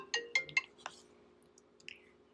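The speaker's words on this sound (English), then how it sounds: "Oh, sorry, phone call." A phone rings for an incoming call during a home illustration livestream, giving a few quick, faint electronic chirping tones in a short burst against a quiet room.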